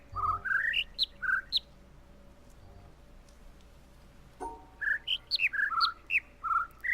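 Birds in The Witness video game chirp in two quick bursts of bright, rising whistled notes, close and clear, with a quiet gap between phrases.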